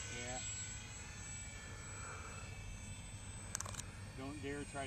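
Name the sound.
Airfield Sky Trainer 182 RC model airplane in flight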